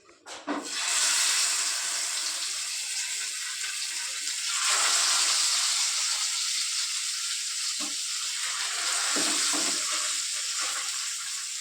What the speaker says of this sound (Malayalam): അങ്ങനെ മീൻ വറുക്കാൻ അടുപ്പത്തിട്ടുണ്ട് കേട്ടോ